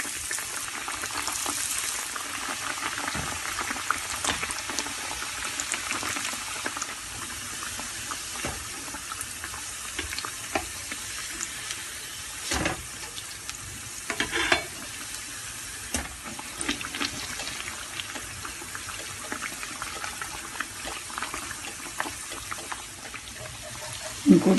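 Food frying in oil heated on medium-low for a home recipe: an even, continuous sizzle and crackle that holds steady throughout, close and moderately loud, with occasional small pops and no clear talking.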